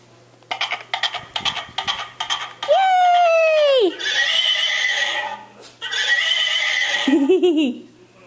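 A horse neighs loudly in a long descending whinny, then gives a shorter, quieter nicker near the end, with a child's play and adult voices briefly around it.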